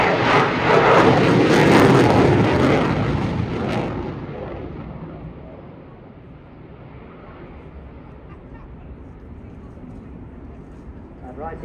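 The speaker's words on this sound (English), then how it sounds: "Balancing the aircraft on the thrust of the engines, generating the lift on that beautiful delta wing." Eurofighter Typhoon with delta wing and canards flying a display at the Eastbourne Air Show, a loud jet roar that fades into the distance while a commentator talks over it.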